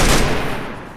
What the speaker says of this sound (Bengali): যে ওই জায়গায় আবার 2টা ফায়ার করতেছে